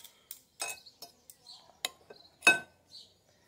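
Utensils clink and scrape against a plate while sausage and meat are served, a series of short, light clinks and taps with quiet pauses between them.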